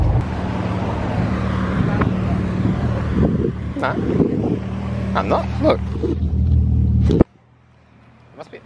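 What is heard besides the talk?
cars passing by on road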